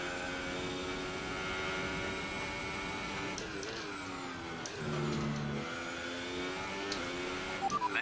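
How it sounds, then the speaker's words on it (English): Racing car engine from a racing video game at the Austrian Grand Prix, a steady loud droning whine with layered harmonics holding continuously, dipping briefly in pitch midway before resuming. "Let's turn the engine down, please."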